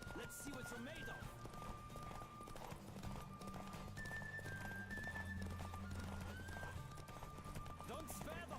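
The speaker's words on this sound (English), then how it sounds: "Don't spare the horse!" A horse gallops in the video game Witcher 3, with steady clip-clopping hooves and whinnying heard over continuous game audio and voices.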